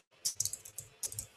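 Quick bursts of keystrokes clatter on a computer keyboard, close and crisp, in two short runs separated by a brief pause.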